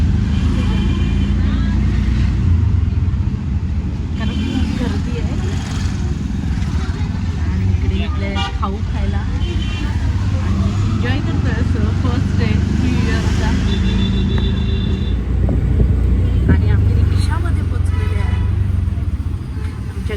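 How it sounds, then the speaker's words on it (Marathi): A steady, close engine rumble of an auto rickshaw runs throughout, with traffic noise and occasional faint voices around it. "आम्ही चाललो रिक्षामध्ये"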